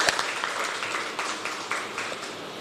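An audience applauds loudly at the closing ceremony of a women's empowerment workshop, a continuous wash of clapping heard from a moderate distance.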